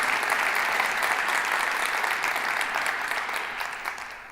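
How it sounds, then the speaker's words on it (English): A large audience at a city's State of the City address claps in a dense, steady roar of applause that holds evenly and tapers slightly at the end. "Give him a round of applause for doing this."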